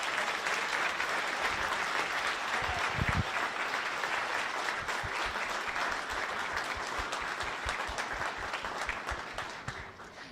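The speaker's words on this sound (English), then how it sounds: "Bishops, you may enter the room and give them a big applause." Audience applause as bishops enter the room at a case competition final, dense clapping from a sizable crowd sustained for about ten seconds, with some sharper nearby claps standing out over the steady wash.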